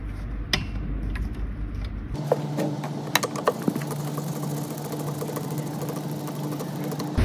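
A battery screwdriver buzzes in short bursts while driving screws into a Deye 5 kW hybrid inverter PCB, with a steady motor whine and scattered clicks and taps of parts being handled nearby.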